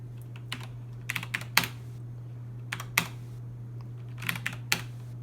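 Keys clatter on an Altair 8800 terminal keyboard in short irregular bursts of a few strokes each, close and fairly quiet over a low steady hum.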